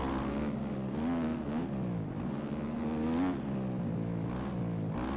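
A motocross bike is ridden around a dirt track with berms in the MX Bikes video game, its engine a continuous droning whine that rises and falls in pitch throughout.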